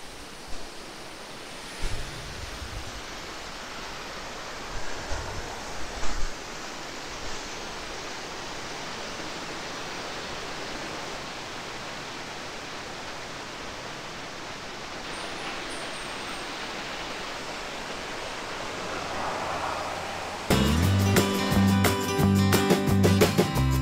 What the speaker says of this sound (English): Found another waterfall.